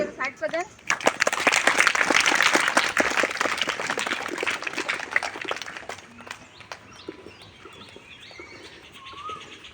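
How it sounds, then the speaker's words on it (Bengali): Students at a primary school morning assembly clap during an inspection visit. The applause is dense and loud for several seconds, then fades into scattered claps, with voices and birds chirping nearby. "আমরা সবাই করতালি দিয়ে"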